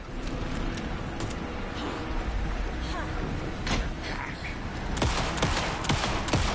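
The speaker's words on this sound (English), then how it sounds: "Anderson, pin him down with gunfire for me to get the light on him." Bursts of rapid gunfire in the video game Alan Wake 2 crackle over a continuous low rumble, with scattered sharp shots and a heavier volley near the end.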